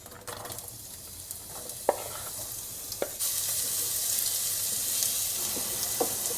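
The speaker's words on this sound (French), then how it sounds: "On commence par faire revenir les oignons dans de l'huile bien chaude" Onions frying in very hot oil for a spinach and egg torta pasqualina, with quiet sizzling and a few spoon clacks early on, then the sizzle swells louder and fuller after a fresh addition; no speech.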